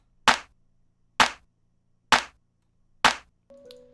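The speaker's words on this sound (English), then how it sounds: "Starting off, we have the clap, which is going to sound like this." Four sharp clap samples from a hip-hop beat hit alone at an even, spaced pulse, each a crisp snappy burst, before a faint tonal sound enters at the end.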